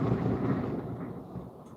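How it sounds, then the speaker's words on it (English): Strong wind blowing outdoors, a steady low rumbling roar buffeting the microphone, loud and close with no talking. "If you guys just heard that, that was literally the wind."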